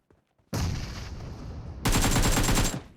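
Two bursts of loud, crackling bomb blasts in PUBG Mobile, the second harsher and brighter, like rapid explosions, with no voices.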